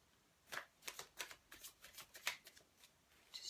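Tarot cards shuffle close by in a quick run of about a dozen crisp riffling bursts, then a brief pause and a final flutter, with no talking.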